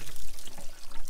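Water pours and splashes out of a burst 5 or 6 gallon hot water tank, a short close gushing trickle with no talk.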